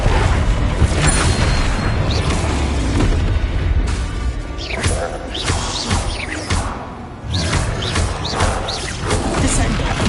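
Repeated Flipendo spell blasts in Hogwarts Legacy arrive amid ongoing combat, with several sharp booms, crashes and swooshing bursts spaced a second or two apart over continuous rumbling.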